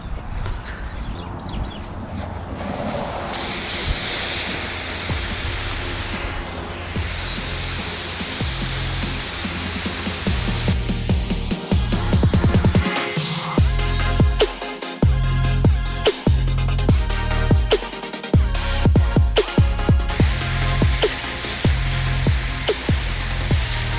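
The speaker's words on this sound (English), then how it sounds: "So now that this is down, let's give it a spray." A steady hissing spray of liquid is applied to the soil of an organic no-till raised garden bed, continuous and close, broken by uneven thumps and shuffles in the second half.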